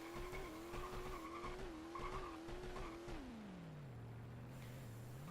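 A rear-wheel-drive drift car in a video game skids while turning uphill, its tires squealing in a wavering, sustained screech over engine drone that drops in pitch toward the end.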